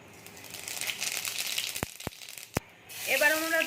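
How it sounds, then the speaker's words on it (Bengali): Cumin seeds hit hot oil left from frying fish for a spicy pabda fish curry, giving a steady crackling sizzle with a few sharp pops. A voice briefly speaks near the end. "এবার আমরা তেলের মধ্যে দিয়ে দেবো জিরে ফোড়ন"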